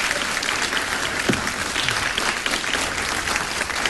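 A live audience claps loudly and steadily throughout at a Greek comedy show with impressions, a dense, close wash of applause with no break.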